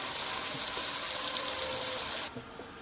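Water poured into a pressure cooker holding curried goat head: a continuous rushing, sizzling pour that cuts off abruptly near the end, followed by a couple of faint clunks.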